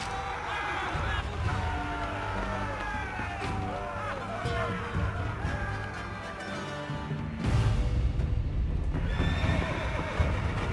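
Knights' horses in the Age of Empires IV video game whinny and neigh repeatedly over a busy battle din of hooves clip-clopping, with a narrator's voice talking in places.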